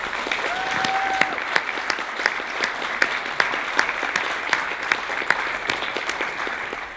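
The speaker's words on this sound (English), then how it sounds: "can we just have a round of applause for them?" Steady audience applause at a chairman's opening remarks, dense even clapping with occasional sharp individual claps standing out.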